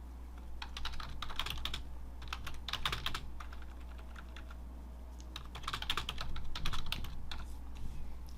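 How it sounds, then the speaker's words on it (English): Rapid clicking of keys on a computer keyboard comes in quick bursts with short pauses, close and fairly quiet, with no talking. "one of the main things you can do is just start typing."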